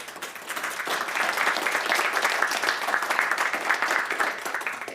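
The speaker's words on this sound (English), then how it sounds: "Let's give a round of applause to our fantastic speakers" An audience at a forum session on a conference stage applauds the speakers, with dense, steady clapping from many hands sustained for the full stretch with no talk.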